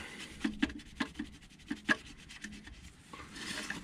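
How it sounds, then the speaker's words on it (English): Old RTV sealant being scrubbed off a VW MK4 engine oil pan gives short, close scraping and rubbing strokes in an uneven rhythm, fairly faint and with no talk. "So just keep repeating, scrubbing until we're done."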